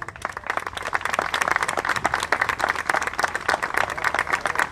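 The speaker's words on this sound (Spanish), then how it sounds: "Renovamos el aplauso." Audience applause at a Guardia Urbana ceremony in Rafaela, marking fifteen years of the force: dense, steady clapping from a crowd that carries on for several seconds at fairly close range, with a few louder swells.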